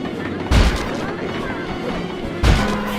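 Two heavy booming bomb blasts in Sly 2: Band of Thieves, about two seconds apart, each a sharp thud with a rumbling tail, over a steady background of game noise.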